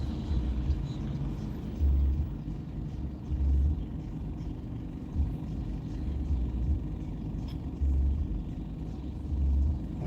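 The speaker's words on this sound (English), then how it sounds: "Man, look at this traffic mess tonight." Night road traffic rumbles steadily in the congested streets of Tempe near the Hayden Flour Mill, with vehicles surging past at regular intervals over a constant low drone.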